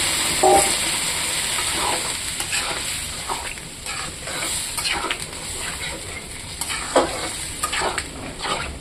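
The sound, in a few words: water added to frying soybean, potato and spice mixture, sizzling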